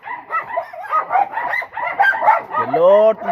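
Several dogs bark and whine at a farm where chickens are kept beside an old mansion-style house, with a rising, drawn-out cry near the end and a person talking throughout.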